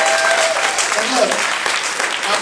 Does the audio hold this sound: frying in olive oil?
no